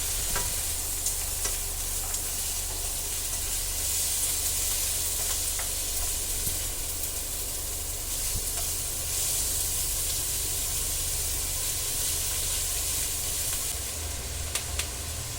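Shrimp heads and small dried anchovies sauté in a pan for ginataang langka, giving a steady, fairly quiet sizzle with soft hissing that carries on unbroken throughout, with no voices.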